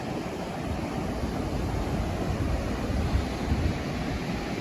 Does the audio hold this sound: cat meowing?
no